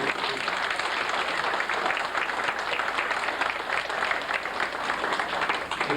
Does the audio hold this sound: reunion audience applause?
yes